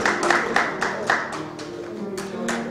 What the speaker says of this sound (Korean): 우리 박준호 목사님 박수 한번 주십시오